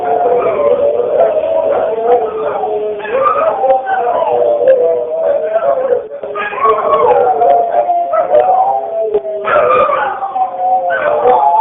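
Dogs at a commercial dog breeder bark, howl and yip continuously and loudly, a dense overlapping chorus with whimpering and no pause.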